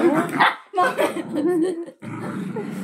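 A pet dog barks and yips in short bursts at home, close by, mixed in with people talking over it.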